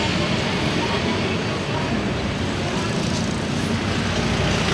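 Constant, dense street traffic rumbles through the town centre of Nabua, a steady wash of engines and road noise with no break and possible voices underneath.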